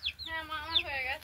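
A chicken feeding gives one drawn-out, wavering call up close, a single clear vocalization lasting about a second over a quiet background.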